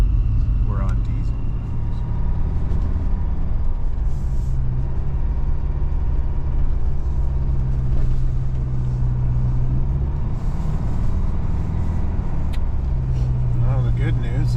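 Detroit 4-53T turbo diesel running on diesel at -28°C, a continuous loud low rumble with steady drone tones heard from close by, with a few faint knocks over it.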